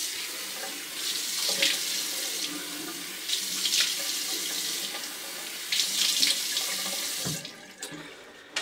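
Water runs from a bathroom sink tap, splashing in a steady stream with brief bursts as hands cup it to wet the face, before shutting off near the end.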